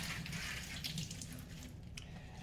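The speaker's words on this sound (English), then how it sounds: "So I just rinse it really well." Spinach leaves rinsed under a running kitchen tap, a faint, steady splash and hiss of water with a few brief spatters.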